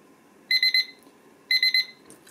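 An Umedo digital kitchen timer alarm beeps in two quick bursts of rapid high-pitched pips, loud and close, separated by a brief pause.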